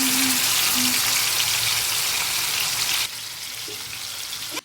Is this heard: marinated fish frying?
yes